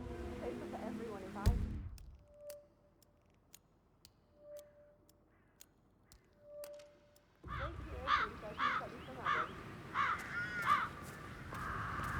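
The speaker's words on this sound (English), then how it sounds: "Damn birds! If I could just get clear hits on those nests." Crows caw repeatedly in the Hitman 3 video game, first as sparse calls over a quiet background with faint ticking, then in a dense, loud burst of overlapping caws against a busy game-sound backdrop.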